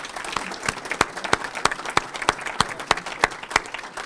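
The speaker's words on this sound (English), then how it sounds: "How about a round of applause for our delegation?" Applause from a small audience at a chamber of commerce legislative breakfast, with sparse, distinct hand claps in a steady irregular patter close by, with no talk over them.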